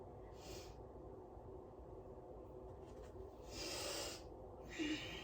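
Breathing during an isometric full-body exercise hold: soft, airy breaths come in three separate bursts, quiet and close, over a low steady background hum.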